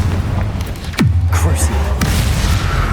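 In the Hogwarts Legacy video game, a Confringo blast spell lands as a sharp, loud boom that drops into a deep rumbling tail, surrounded by busy combat effects and a voice calling out.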